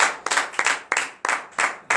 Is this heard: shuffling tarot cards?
no